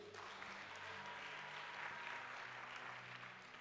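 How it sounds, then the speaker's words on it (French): A church congregation claps and acclaims Jesus during a worship service, sustained dense applause from many hands, steady and fairly distant, with faint voices mixed in. "on peut acclamer Jésus"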